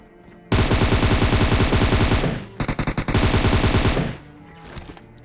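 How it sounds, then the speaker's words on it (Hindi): Automatic gunfire in the mobile battle royale game PUBG Mobile, two long loud bursts of rapid shots with a brief stuttering gap between them, then a fading tail. "अब देखो एक को तो बंदूक इसने लेजेंड ने ख़त्म कर दिया और दूसरे को मैं मार देता हूँ।"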